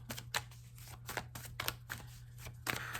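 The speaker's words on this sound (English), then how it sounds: "For some reason, I wanted to shuffle it on camera." Tarot cards are shuffled close by, with irregular bursts of papery riffling and flicks over a steady low hum.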